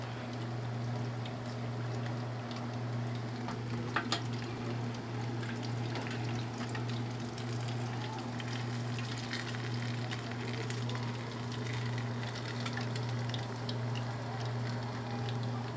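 Chicken thighs and legs fry in hot oil with a steady, continuous sizzling bubble and a low constant hum underneath, with no talking.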